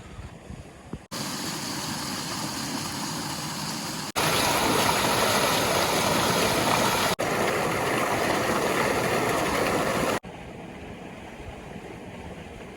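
A farm water pump motor runs with a steady mechanical drone alongside a constant rush of flowing water, loud and close, with abrupt shifts in level between sections.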